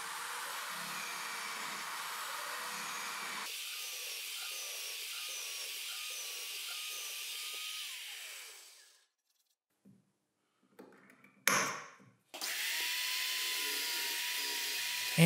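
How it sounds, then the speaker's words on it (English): A power drill whines steadily as it bores 20mm holes into wooden workbench legs, changing pitch partway through, then stops briefly before starting up again. "I need to drill some holes on the legs, some 20mm diameter holes for the holdfast clamps."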